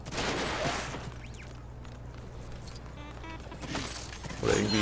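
Rapid bursts of blaster-style gunfire at a shooting practice range in the LEGO Star Wars: The Skywalker Saga video game, dense and continuous with game effects layered throughout.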